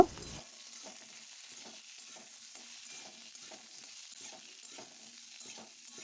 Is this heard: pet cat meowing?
no